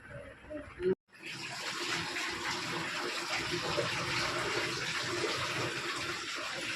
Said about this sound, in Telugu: తాత వాటర్ పోస్తున్నాడు